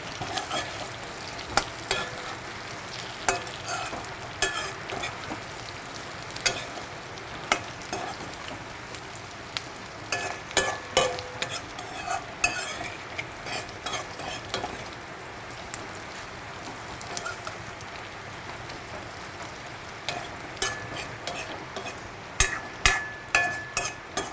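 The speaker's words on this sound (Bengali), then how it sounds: "তো আমি ভালো করে এটার সাথে মিক্স করে নেব আলুটাকে তেলের সাথে, তেল এবং পেঁয়াজের সাথে।" Potatoes stirred with oil and onions in a hot frying pan, giving a steady sizzle broken by repeated scraping and clinks of the spoon against the pan, close by and with no talking.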